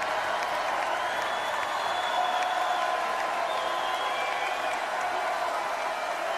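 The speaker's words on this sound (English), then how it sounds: "Crowd electric so far tonight." Continuous roar of a large crowd cheering and applauding at a 2022 NCAA second-round volleyball match between Texas and Georgia, a steady dense wash of clapping and voices with no letup.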